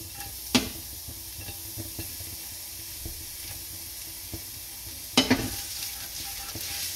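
Garlic sizzles steadily in hot oil in a pan while a utensil stirs it, with two sharp clanks against the pan over the continuous close frying hiss.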